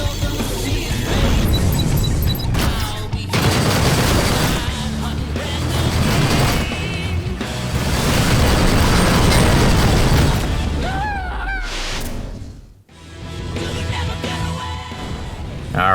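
Missile explosion in a video game, a dense loud booming blast with crashing debris and rumble that rolls on for several seconds amid busy game effects, then cuts out and resumes.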